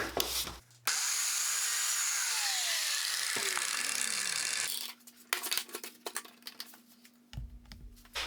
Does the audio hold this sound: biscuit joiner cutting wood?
yes